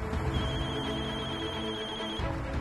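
A mobile phone ringtone plays quietly, a steady tonal melody over a low background hum, with no talking.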